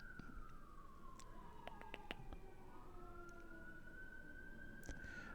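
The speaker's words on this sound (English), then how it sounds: "ambulance in the house" An ambulance siren wails steadily outside for several seconds, its pitch bending down and rising again as it passes, with brief clicks and knocks close by.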